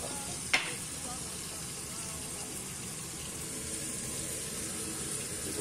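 Onion sautéing over high heat in a pan for stewed turtle doves, a steady close broadband sizzle holding throughout with one sharp knock near the start and no talk.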